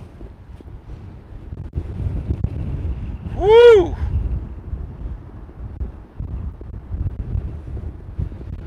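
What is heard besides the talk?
strong wind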